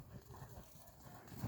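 A horse offered for sale, brought from Abakan, walks along with slightly slipping hooves, giving a steady, close clip-clop rhythm of soft thuds with no talking.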